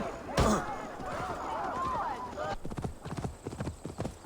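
Horse hooves clip-clop in Assassin's Creed Valhalla: a sharp impact, then a steady run of rhythmic hoofbeats up close, with voices talking over the first part.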